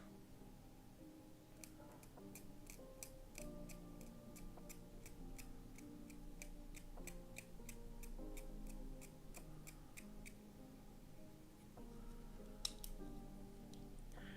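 Plastic Warhammer model parts are trimmed off the sprue with a string of sharp, light snips and clicks, some quick and some spaced apart, heard faint and close over a quiet room.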